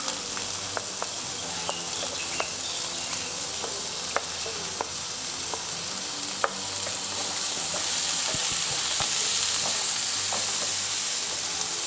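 Carrots frying in a pan with onion and garlic for a vegetable ratatouille, a loud, steady sizzle with occasional clicks of stirring, growing slightly louder toward the end.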